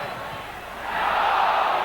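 A football crowd at a 1991 Spurs v Notts County FA Cup sixth-round match appeals for handball, its roar swelling from a steady murmur into a louder, sustained clamour.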